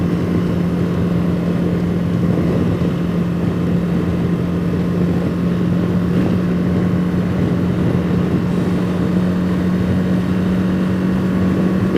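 A KTM motorcycle engine running in sport mode gives a loud, close, steady droning roar that holds at an even level throughout, with no voices over it.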